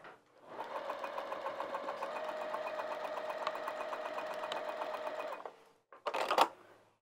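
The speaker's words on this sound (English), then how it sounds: "now I'm going to sew all the way across this edge" A sewing machine runs in one continuous, even burst across the edge of a bag, lock stitching as it goes, then halts and gives a short final run, close and clear.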